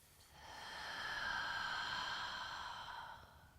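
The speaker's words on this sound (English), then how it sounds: "Exhale through the mouth." A slow, steady breath exhaled through the mouth during a yoga cool-down, a soft airy hiss that swells and fades over a few seconds, close and quiet with no talking.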